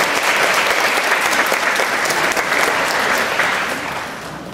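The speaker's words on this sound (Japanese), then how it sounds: "もう一度盛大な拍手をお願いいたします。" Loud, dense applause from a Japanese lecture audience at a talk on food education, sustained for several seconds before easing slightly at the end, with no talking over it.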